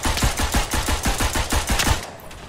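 Rapid automatic gunfire from hip firing in the World War I shooter Verdun, a steady run of about fifteen sharp, close shots in quick rhythm that stops abruptly near the end, with no voices.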